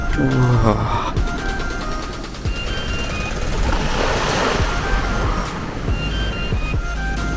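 Surf washes in at Greens Pool, a granite-bouldered beach in William Bay National Park near Denmark, Western Australia, a broad rushing swell of waves with wind buffeting the microphone throughout.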